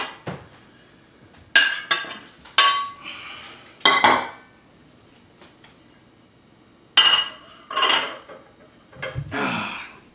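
Cornbread flopped out of a pan, with several sharp metallic clanks and knocks of the pan and utensils in separate bursts over quiet kitchen background.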